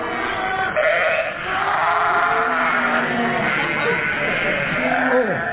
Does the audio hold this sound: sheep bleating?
yes